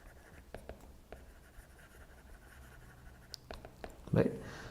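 A marker or chalk scratches out a few short strokes on a board, quiet and close, ending in a louder tap or thump, with a lecture voice murmuring faintly beneath.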